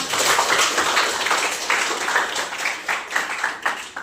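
A classroom of students claps together at the end of a coding lesson, a lively burst of close, overlapping hand claps that carries on and thins slightly toward the end.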